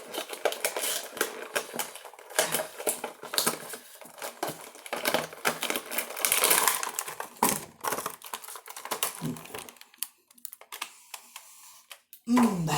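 Star Wars toy packaging is opened up close, with busy crinkling plastic, tearing cardboard and rustling clatter, ending in a sudden louder burst.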